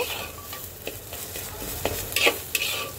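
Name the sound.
stirring sugar into taro chechki in a pan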